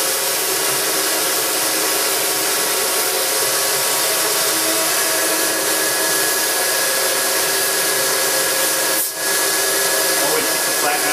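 A Burr King 760 belt grinder runs steadily while contour grinding off the platen, a loud continuous abrasive whir and hiss with a brief dip near the end.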